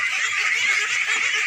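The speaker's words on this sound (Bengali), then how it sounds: "হাঁসের জাত হচ্ছে খাকি ক্যাম্বেল" A large flock of Khaki Campbell ducks on a farm pond in rural Bangladesh keeps up a dense, continuous chorus of quacking and honking. The sound is steady and close, with no talk.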